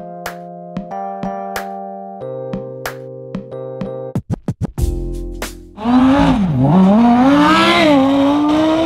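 Straight-piped Lamborghini supercar engine, loud and close, with a few short blips and revs before a roaring full-throttle launch that climbs and wavers in pitch.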